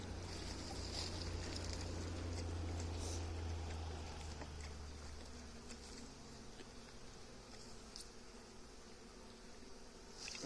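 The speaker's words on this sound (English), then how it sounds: "there was a lot of bees in this feeder" Honey bees swarm a beehive feeder during feeding, producing a dense, steady buzzing drone close by with scattered louder passes, and no talk over it.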